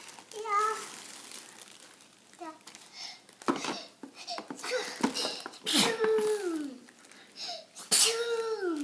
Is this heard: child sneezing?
yes